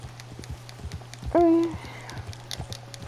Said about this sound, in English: Another long, boring horse ride.